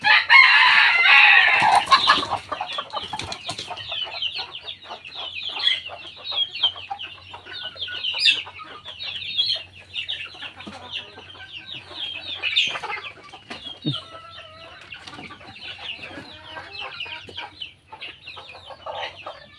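Four chickens clucking and chattering continuously on a rainy monsoon day, with a loud burst of squawking at the start, then steady busy clucks.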